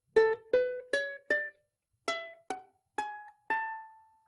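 Eight bright plucked notes of a scale step upward one at a time on a soprano ukulele, each short and ringing, with a brief gap midway and the last note sustaining.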